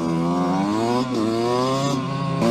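A 125cc motorcycle revs hard close by, its engine pitch climbing and dropping through several throttle blips and gear changes as it rides off.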